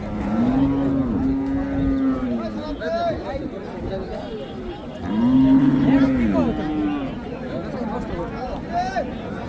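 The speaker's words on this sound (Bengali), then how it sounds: "এখানেও একটা ক্রস জাতের গাভী আছে" A crossbred dairy cow, with her calf nearby, lets out two long, loud moos at a busy rural cattle market, with chatter and crowd babble all around.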